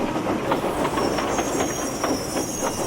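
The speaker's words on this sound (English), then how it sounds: "Thomas puffed into Tidmouth Station with his first train of the day." A steam locomotive pulls into a station with a steady, rhythmic chuff and wheel clatter. The sound is moderately loud and continuous, with faint squealing above it and no talking.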